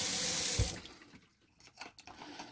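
Kitchen tap running full into a sink for well under a second, a loud steady rush that cuts off sharply, followed by quieter clinks and drips in a small room.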